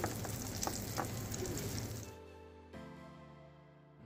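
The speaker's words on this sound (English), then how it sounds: "is deep fried halloumi" Halloumi cheese bubbling in hot oil in a Henny Penny F5 open deep fryer, a loud close steady sizzle that cuts off partway, leaving a low machine hum with tonal ringing.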